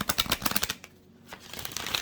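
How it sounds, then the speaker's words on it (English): A deck of tarot cards being shuffled near a candle, giving quick bursts of riffling card flutter followed by a short pause before the shuffling starts up again. "I wanted to get a good couple shuffles in here though from this deck"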